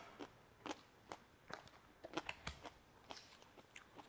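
A small snack is chewed while grilled chicken flatbread is made, a series of faint, close crunchy bites and chews in an irregular rhythm.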